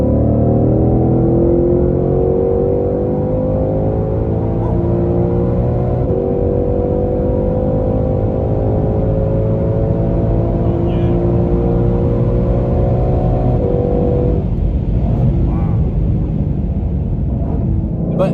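A modified 2019 Mustang GT, tuned and built to run nine-second passes, pulls hard at full throttle with the AC off, a loud steady engine roar climbing through the gears for the whole stretch, close and continuous.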